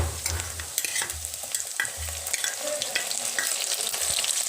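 Ginger-garlic paste and green chillies sizzle and fry in a pan, crackling steadily up close while a spatula scrapes and stirs in repeated strokes.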